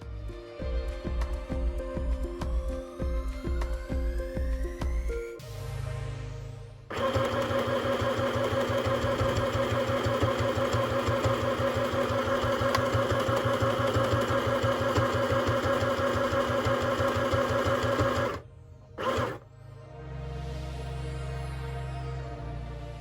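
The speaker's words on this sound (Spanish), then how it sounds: "Coseré de nuevo el trazo, pero esta vez doblándolo" A Singer M1000 sewing machine runs a straight stitch along a folded hem in denim, its motor humming with a fast steady rhythm for long stretches, broken by brief pauses and a few slower starts, close and loud.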